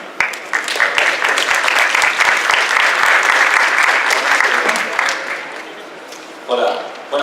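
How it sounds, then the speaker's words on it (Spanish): An audience at a technical talk gives a strong round of applause that lasts about six seconds, then fades as a voice begins speaking near the end. "Fuerte aplauso para el ingeniero."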